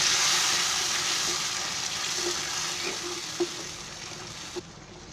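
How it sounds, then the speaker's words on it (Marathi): Tomato paste fries in hot oil with a steady, loud sizzle that eases slightly over time, broken by a few soft spoon scrapes and taps against the pan near the end. "हे चांगलं भाजून घ्यायचं, चांगलं तळून घ्यायचं तेलामध्ये"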